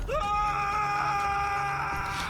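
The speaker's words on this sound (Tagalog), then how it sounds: "Napasigaw sa sakit ang mama." A man screams in pain, one long, loud, sustained cry that rises sharply at the start and holds strained and close before tailing off.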